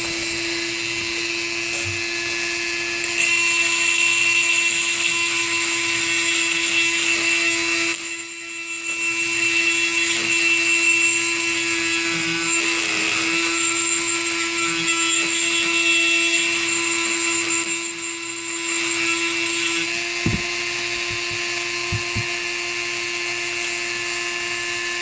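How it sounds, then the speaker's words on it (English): A power tool sands and polishes a gun magwell with a loud, continuous high-pitched whine. It drops out twice for a moment, and a few faint knocks sound late in the clip. "I'm just going to go through and get everything nice and sanded even"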